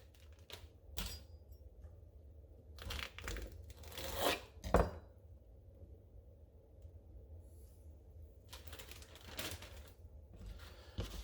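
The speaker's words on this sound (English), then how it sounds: "we're going to put them in a quart-size Ziploc bag so that we can coat that with oil and salt" Okra halves tossed with oil and salt inside a quart-size Ziploc bag, giving bursts of crinkling, rustling plastic and soft thumps in short clusters, quiet overall with gaps between shakes.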